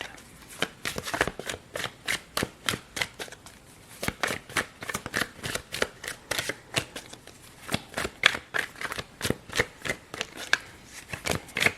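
Tarot cards shuffled close up in steady repeated bursts, each a crisp papery riffle or slap in an even rhythm, quiet but distinct and with no speech.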